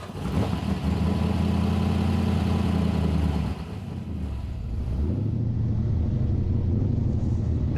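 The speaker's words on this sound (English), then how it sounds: "There's nothing like the rumble of a V8" A V8 engine rumbles with a deep, steady low throb, loud and close, easing briefly in the middle before settling back into a lower idle.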